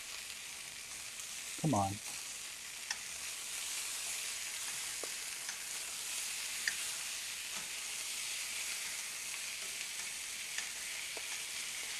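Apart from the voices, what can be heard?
braised sausages searing and sizzling in a pan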